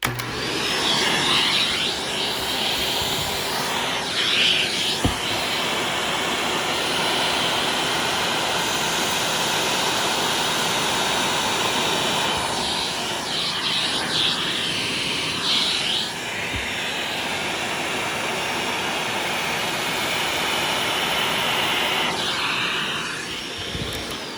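A Shark DuoClean UV810 vacuum cleaner running continuously at close range, a loud steady whooshing motor roar with slight surges as the head moves across the floor, no voices.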